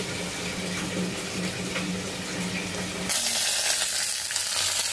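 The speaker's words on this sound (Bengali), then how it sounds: "পেঁয়াজটা ভাজা হয়ে গেলে ডিম দিব" Egg and onion fry in a pan for cabbage bhaji, giving a dense sizzle with a low hum under it, and after a few seconds the sound jumps into a louder, brighter hiss.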